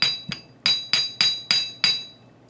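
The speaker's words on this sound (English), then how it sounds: "we're going to gently hammer the bottom of this." Hammer strikes a wire focal pendant resting on a metal bench block, about seven sharp, bright metallic taps in a quick, slightly uneven rhythm, close and clear with no talking.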